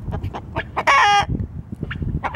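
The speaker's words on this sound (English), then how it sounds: "What's wrong, Rooster?" A nearby rooster gives a short series of clucks with one louder, squawking call in the middle.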